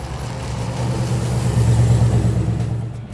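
Studebaker restomod car engine running steadily, a close, low rumbling idle that swells slightly in the middle before easing off, with no talking.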